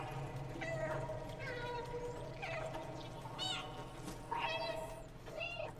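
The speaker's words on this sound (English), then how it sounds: "And no one questions the meowing box." In the video game Stray, a cat hidden inside a box meows repeatedly, a series of short, clear calls spaced a second or so apart over a steady bed of background ambience.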